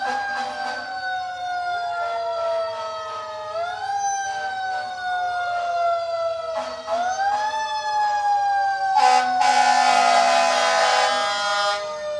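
Engine 4 of the Shirley fire department sounds a loud, rising and falling wail siren during a Civic Days parade, with a blast of air horn near the end.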